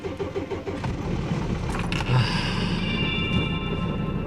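An old 22-year-old diesel van engine cranks and starts in arctic cold after glow plugs are run, settling into a steady, loud mid-pitched idle rumble that fills the clip.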